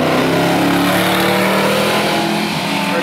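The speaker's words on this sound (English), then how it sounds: "It certainly sounds like a Chevrolet." A loud, sustained roar of a powerful Chevrolet V8 engine in an Ultima GTR race car, steady and throaty as the car drives past at speed at a sprint event, with no talking.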